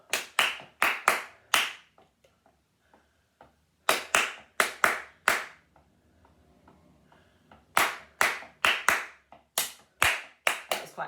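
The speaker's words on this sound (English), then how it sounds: "So I'll just clap it and you clap it back." Rhythmic body-percussion hand clapping in a music lesson, crisp close claps in short four-beat patterns, each phrase answered by a similar group after a pause, with quiet gaps in between.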